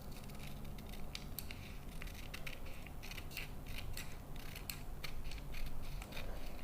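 Scissors cutting out sewing fabric for puffy sleeves, a close series of crisp snips and blade clicks repeating in an uneven rhythm throughout, with no talk.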